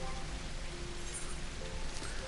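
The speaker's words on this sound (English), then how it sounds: "It's gonna rain, mister." Steady rain hisses continuously in Final Fantasy XIV, a soft even patter at moderate distance with no other clear sounds.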